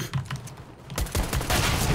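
Rapid automatic gunfire in the tactical shooter CS:GO, loud close bursts of shots that grow denser in the second half, with faint keyboard clatter underneath.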